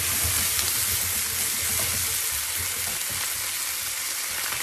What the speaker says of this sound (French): on va rajouter nos choux de Bruxelles. Là maintenant, je vais venir verser le tout. Je vais mélanger le tout.